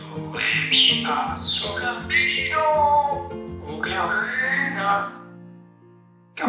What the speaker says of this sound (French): ce perroquet très bavard comprend-il ce qu'il dit